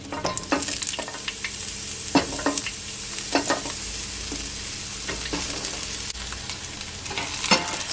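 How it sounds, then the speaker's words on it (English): Onion, ginger and garlic frying in oil in a pot for beef chow mein, a steady sizzle broken by sharp scraping and clattering stirring strokes, up close with no talking. "there's some onion that I cut them really big, so I'm just gonna add them to my pot"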